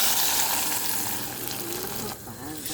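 Cooked dal for thotakura pappu, an amaranth dal, goes into a hot frying pan and sets off a dense, loud sizzle that holds steady and then drops sharply as the pan quiets.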